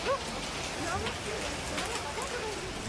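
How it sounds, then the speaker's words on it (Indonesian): Heavy rain with strong wind and hail in central Sidoarjo on a Monday afternoon, a dense, steady hiss of downpour with scattered sharper impacts throughout. "Hujan deras disertai angin kencang melanda kawasan tengah kota Sidoarjo pada Senin sore."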